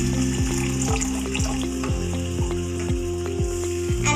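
Masala for hotel-style Punjabi chole simmering and frying in a pan after chole water and plain water are added, a steady close bubbling sizzle with a regular rhythmic clanking running through it, no talking.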